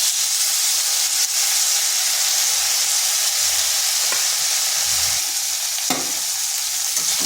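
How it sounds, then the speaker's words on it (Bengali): Prawns fry in a pan with a steady, loud sizzle and hiss that runs throughout, broken by a few short scraping stirs of a utensil. "মাছগুলোকে হালকা একটু ভেজে নেব"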